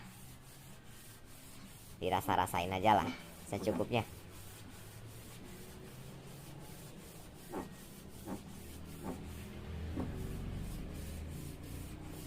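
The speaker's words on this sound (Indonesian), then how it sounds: "ini saya coba gosok lagi menggunakan amplas yang lebih halus" Short bursts of rubbing and scraping as fine sandpaper is worked against a motorcycle engine head, then a few lighter strokes, with a person speaking briefly between them.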